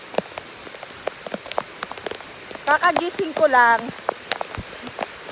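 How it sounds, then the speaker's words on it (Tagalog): Heavy rain falls on a rooftop, a dense patter of drops running through the whole stretch, while a person speaks briefly in the middle over it. "And narinig ko malakas ang ulan."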